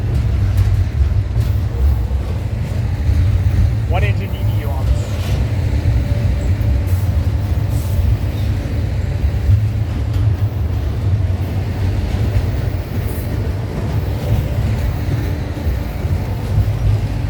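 A freight train rumbles past a rail junction at Fullerton, giving a loud, continuous low roar of wheels and engines with faint metallic squeals and clanks throughout.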